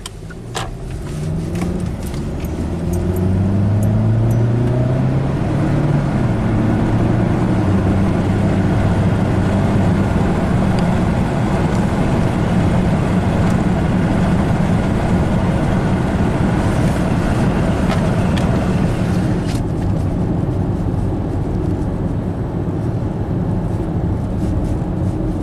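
Hyundai car on a test drive after misfire and low-power repairs, engine rising from idle into a sustained loud acceleration roar with a climbing then steady drone and road noise, no talk.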